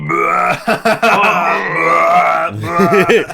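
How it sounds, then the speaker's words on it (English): A long, loud, drawn-out burp from a man, voiced and gurgling, rolling on for about three seconds in a stone-walled hallway space before a second shorter belch-like grunt. "as you burp, yeah, it just echoes throughout this area"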